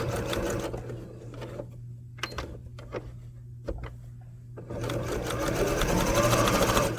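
A sewing machine stitches a curved seam, whirring in a steady run, then slowing to a few separate stitches and short pauses before speeding up again into a continuous loud buzz, close up.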